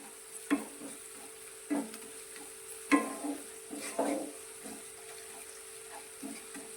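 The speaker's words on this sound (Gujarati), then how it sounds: "તો લસણ અને મરચાં ડુંગળી બધું જ સારું આપણું સંતળાઈ ગયું છે" Garlic, green chilies and onion sautéing in a pan, a quiet background sizzle broken by several distinct scrapes and knocks of a spoon stirring at irregular intervals.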